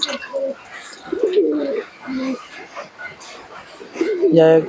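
Soft, throaty cooing from Giribaz pigeons in short rolling bursts, close by, mixed with someone talking in the background.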